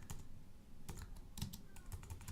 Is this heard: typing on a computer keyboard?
yes